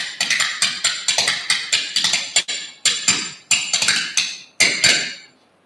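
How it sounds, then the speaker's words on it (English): Pair of spoons racked between leg and hand as percussion, producing a rapid, bright clattering of sharp metallic clicks in rhythmic bursts with brief pauses, close and loud, ending on a fading ring. "That's the sound of spoons"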